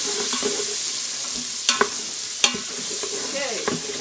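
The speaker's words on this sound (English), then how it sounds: "I stir it around enough that it doesn't really have a chance." Garlic stirred in oil in an Instant Pot, soft sizzling under a spoon scraping around the pot, with a few sharp metallic clinks against the insert.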